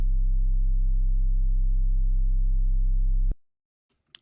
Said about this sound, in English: they're basically just sine waves